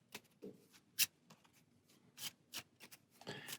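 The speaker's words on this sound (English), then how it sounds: "So we'll just get these a little randomized and shuffle those." Player cards for a Football Highlights 2052 board game being shuffled by hand, a series of soft papery swipes and riffles at an irregular rhythm, close and quiet with no speech.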